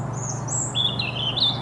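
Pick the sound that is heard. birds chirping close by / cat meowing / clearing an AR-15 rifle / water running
birds chirping close by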